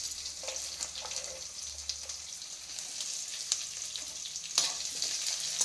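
Dry chillies, curry leaves, garlic and onion fry in a pan with a steady, close sizzle and a few light stirring clicks. No one speaks.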